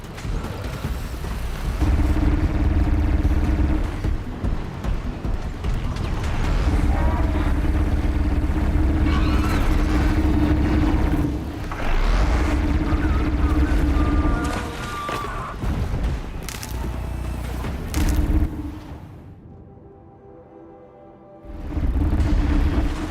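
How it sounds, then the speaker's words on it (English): Cannon fire from two Ravager machines in Horizon Zero Dawn rumbles loudly and continuously, with heavy booms and mechanical drone layered over game sound, briefly dropping away near the end before returning. "All I hear is that gunfire from those two Ravagers"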